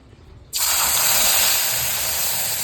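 A paste of ginger, garlic, chilli and cumin with turmeric and salt is dropped into hot oil, and a sudden loud sizzle erupts and holds as a steady hiss.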